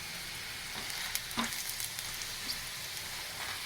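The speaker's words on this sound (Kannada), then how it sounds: "ಈಗ ಒಂದು ಬಟ್ಲು ತುಂಬ ಒಣ ಕೊಬ್ಬರಿ ಹಾಕ್ಕೋತಾ ಇದ್ದೀನಿ. ಸಿಮ್ಮಲ್ಲಿ ಇಟ್ಕೊಂಡು ಉರಿಬೇಕು." Dried coconut roasting on a low flame in a pan, giving a faint, steady sizzle with a few soft crackles and stirring scrapes near the middle, no voices.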